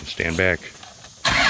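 A Dodge D350 truck engine cranks and fires up after a short spoken warning, the start catching abruptly near the end, close and loud.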